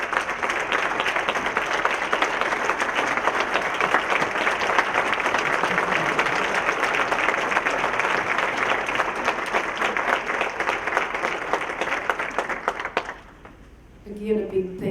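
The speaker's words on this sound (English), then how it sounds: "let's give them a big round of applause." A breakfast audience at a business appreciation event gives sustained, loud applause for nominated businesses and winners, a dense clapping roar that holds for a long stretch before dropping away, followed by brief voices near the end.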